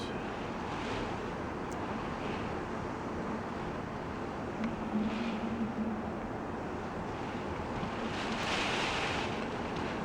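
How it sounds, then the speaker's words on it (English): Hurricane Ian's wind roars continuously with rushing gusts of 100 or more that swell and fade, a constant heavy whoosh broken by occasional faint knocks. "We've definitely had gusts, I'd say 100 or more."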